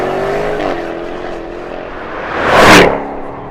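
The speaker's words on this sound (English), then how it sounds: "it's a big V8 GT and it does that really, really nicely. Nothing's too forced, despite maybe some contrived exhaust noise." A 2020 Jaguar F-Type R's V8 engine rumbles steadily nearby, then the exhaust swells into a loud, throaty rush before easing back.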